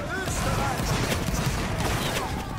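An infantry line fires a musket volley in a Napoleonic wars video game, a dense crackling burst of many shots rolling together, with voices talking over the gunfire.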